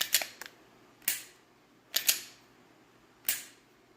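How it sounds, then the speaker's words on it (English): Dry-fire pistol trigger pulls with a Mantis X10 training system: four sharp, close clicks spaced about a second apart, with a couple of quick doubled snaps, over quiet room noise. "there's a couple shots, and I was just taking them to show you guys here"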